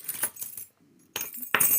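A handful of keys jangles in short metallic bursts, bright clinks and rattles separated by a brief pause, close and clear.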